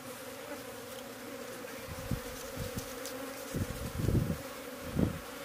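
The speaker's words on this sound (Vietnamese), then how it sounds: "Đàn ong này có hiện tượng bay ra, Phương ơi." A domestic honeybee colony swarming out of its hive, giving a dense, steady buzzing hum close by with swelling louder passes as bees fly near.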